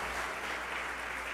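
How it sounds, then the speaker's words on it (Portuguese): Brief burst of dense, even clapping from a church congregation during worship, steady and unbroken with no voices over it. "Agora pode aplaudir o Senhor"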